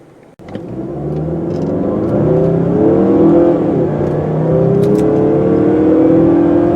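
A 2016 Mazda CX-9 with a small turbocharged engine accelerates, its engine note rising steadily in pitch and holding loud and close for several seconds after a brief quiet start.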